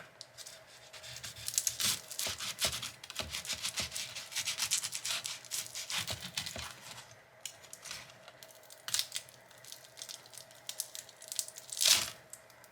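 A knife cuts into a crispy air fryer baked potato: close, dry scraping and crackling crunches come in a quick irregular series, with one louder crackle near the end and no talking.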